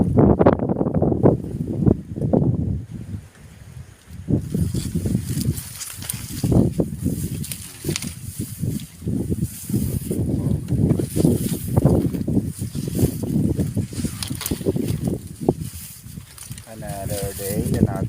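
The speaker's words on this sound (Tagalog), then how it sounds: "Lakas ng hangin guys" Gusty wind buffets the microphone in loud rumbling bursts while someone talks over it outdoors.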